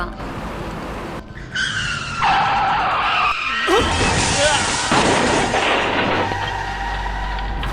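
A truck skids with a long, loud tyre screech, followed by a heavy crashing impact, close and harsh, with a brief voice underneath.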